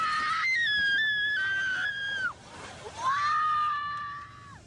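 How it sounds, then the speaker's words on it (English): A woman screams as a building collapses on the island of Dominica during Tropical Storm Erica, with two long, high, wavering cries and a short break between them, loud against a windy, rushing background. "A woman screams as that building collapses on the island of Dominica"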